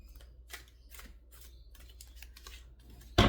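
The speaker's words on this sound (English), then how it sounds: "I want you to see me shuffle on camera so you can see it." A deck of tarot cards is shuffled close up in a quiet room, giving a run of soft, irregular riffling flicks over about three seconds, ending in a louder handling thump.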